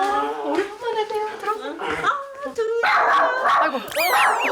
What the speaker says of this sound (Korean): 문제는 수강생들에게도 한없이 짖는다는 것인데요.